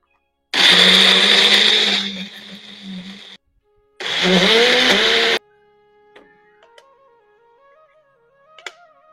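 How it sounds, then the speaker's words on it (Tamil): A kitchen mixer grinder grinds boneless chicken for momos in two loud, close bursts of whirring motor roar. A short pause separates them, and faint clinks and sliding tones follow. "அதை நம்ம மிக்சியில் போட்டு நல்லா நைஸாக அரைச்சி எடுத்து வச்சுக்கலாம்."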